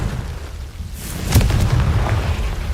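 A Confringo fire spell explodes in Hogwarts Legacy, bursting with a sharp crack and then settling into a low, sustained rumble. No one talks over it.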